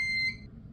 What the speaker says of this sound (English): I'm tired of this alarm going off.